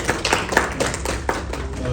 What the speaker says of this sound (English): big round of applause for Karan and the Exchange for Media team